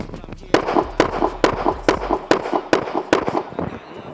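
Gunshots fired at a target during a shield shooting drill, a rapid string of about eight sharp, loud cracks in a quick, fairly even rhythm, each with a short echoing tail outdoors.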